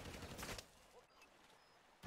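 Burst of video-game gunfire from Call of Duty Modern Warfare III, dense and fairly loud for about half a second, then fading to a quieter background with faint scattered tones.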